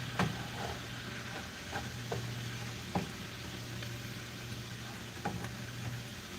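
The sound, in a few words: onions and lettuce sauteing in a pan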